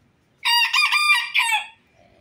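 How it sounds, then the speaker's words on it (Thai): A cocoa-coloured bantam rooster from Phetchaburi gives one loud, close crow in several drawn-out bright segments, set against otherwise near-silent surroundings. "ไก่แจ้เข้าใหม่ครับชุดพ่อแม่พัน"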